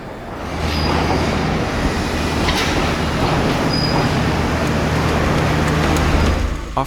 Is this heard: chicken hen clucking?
no